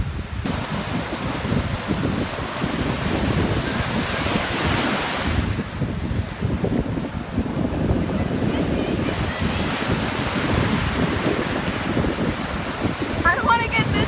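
Ocean surf rolls continuously at a sunny family beach outing, with waves washing in and out under heavy wind buffeting the microphone, a steady broad roar that swells and eases.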